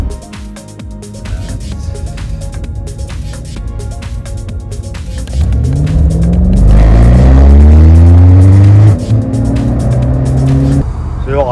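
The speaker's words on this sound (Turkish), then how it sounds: "Basalım şöyle, bir nasıl sıfırlıyor araba." A Mercedes W124 accelerating hard from a standstill, recorded loud and close from inside: the engine note starts low, then rises in pitch as the car pulls away, revving through the gears.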